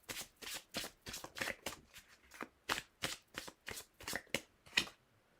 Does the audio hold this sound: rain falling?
no